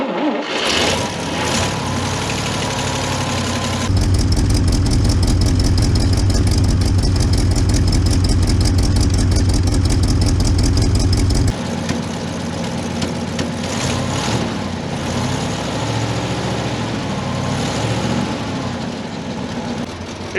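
International 4x4 truck engine running close by, first a steady idle, then a louder, higher-revving stretch before settling back to a rough, even idle on its own.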